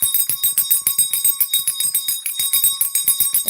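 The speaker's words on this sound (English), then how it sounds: "Ring my bell again." A small bell rings rapidly and continuously in a steady shaking rhythm, bright and close, with no voices over it.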